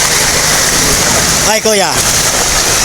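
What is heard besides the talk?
floodwater flowing during Typhoon Carina in Marikina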